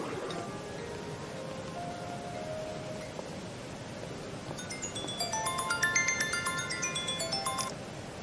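A telephone ringing tone sounds while an outgoing call connects, a steady tone that turns into repeated bright electronic beeps over a faint background hiss.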